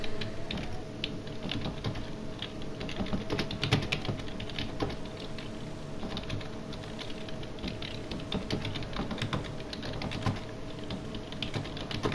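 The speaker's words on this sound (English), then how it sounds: "I was just typing to someone." Fingers type steadily on a computer keyboard, with continuous quick clicking of keys over a constant low background hum and no talking.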